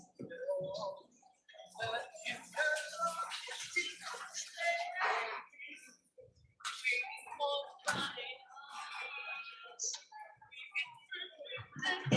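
Tap water runs steadily indoors at moderate loudness, with a voice talking over it for most of the stretch.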